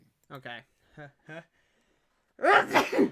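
A person says a short word, then after a pause lets out a single loud, close sneeze.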